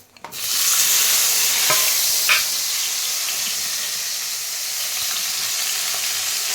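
Chopped tomato tipped into a pan of frying mutton curry, setting off a loud, steady sizzle and hiss that starts abruptly and carries on evenly, with a few faint stirring clicks on top.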